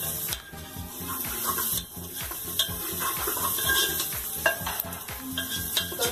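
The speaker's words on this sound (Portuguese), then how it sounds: "E aí eu vou jogar aqui, refogar bem e colocar para cozinhar uns 20 a 30 minutos" Food sautéing in a pot in a home kitchen, a steady sizzle with stirring scrapes and soft clatter throughout, close and fairly quiet, with no talk.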